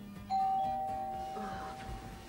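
A doorbell rings with a single sustained electronic tone that holds for about a second, fairly faint, over a quiet room background.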